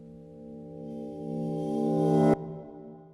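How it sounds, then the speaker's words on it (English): A reversed sample processed through a FabFilter reverb for indie film scoring: a sustained tonal swell grows steadily louder for about two seconds, then cuts off abruptly, leaving a brief faint tail. "I've got a reversed version of the sample,"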